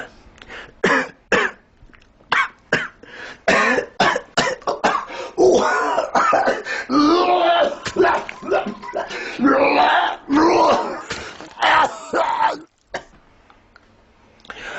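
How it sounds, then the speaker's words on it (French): A smoker's long fit of harsh, repeated coughing and throat clearing, close and loud, in rapid bursts with hoarse hacking between. "le fumeur tousse un peu"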